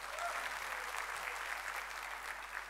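Conference audience at PyCon India gives a sustained, even round of applause after a lightning talk, moderately distant and unbroken, with no clear speech.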